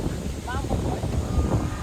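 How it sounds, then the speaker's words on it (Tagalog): Strong wind buffets the microphone with a rough, low rumble at night in a forest in Tanay, Rizal, Philippines, with light rain, and a voice can be heard briefly in the gusts. "Lakas ng hangin."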